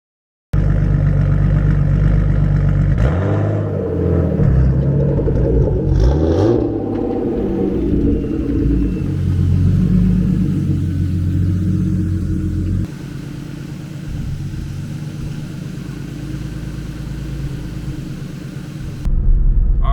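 A turbocharged BMW E36 driving along, its engine rumbling and whirring steadily from inside the car, with a rise in revs early on and a drop in tone partway through.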